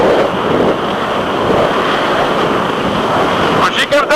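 Rough, bumpy ocean water churns loudly during an offshore powerboat race off Ocean City, Maryland, with a 37-foot Outer Limits boat out on the course; steady wash and wind noise fill the whole stretch, with a brief disturbance near the end.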